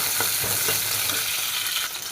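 Garlic fries in hot coconut oil for a mackerel curry, a close, steady sizzle with scraping stir strokes early on and the frying softening slightly at the end, no speech.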